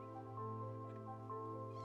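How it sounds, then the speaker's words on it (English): A cat meows softly and repeatedly over a steady humming game-music background, the faint mewing rising and falling under the constant tone. "Kitty Cat, how you doing?"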